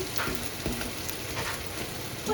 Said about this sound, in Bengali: এই বড়াটা ভাজতে হয়ে গেছে